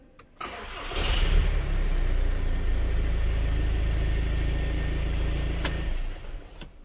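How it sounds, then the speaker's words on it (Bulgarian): An Audi A3 8P with a 2.0 TDI diesel cranks briefly, catches, and settles into a steady, rumbling idle close by, with a few faint clicks over it before the engine cuts off near the end. "Колата пали."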